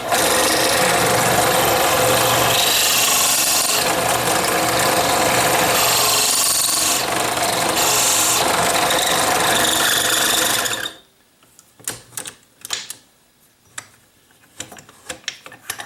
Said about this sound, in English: We just use this trimmer, drop it in here, line it up, and then just trim it out.